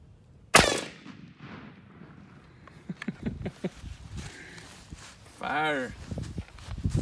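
A 12 gauge shotgun loaded with 3 1/2 inch Apex ammunition fires one loud, sharp blast early on, followed by handling noises and people talking nearby.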